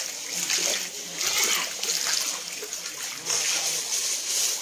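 Someone wades through knee-deep floodwater around village homes, producing continuous close splashing and sloshing with trickling water, while voices, including a child's, talk underneath.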